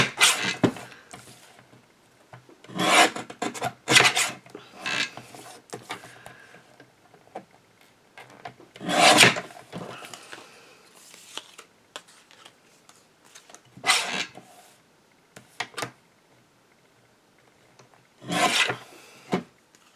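A paper card sentiment is trimmed out of a recycled Christmas card: a series of separate, close, rasping cutting strokes in short bursts with quiet gaps between them, and no voices.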